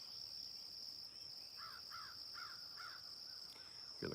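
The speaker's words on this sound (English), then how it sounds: "Hear the crows over in the background." Four short caws from a crow, fairly distant, over a steady high drone of bees buzzing and faint garden background.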